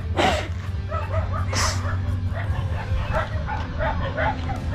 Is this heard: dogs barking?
yes